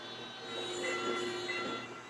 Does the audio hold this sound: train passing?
yes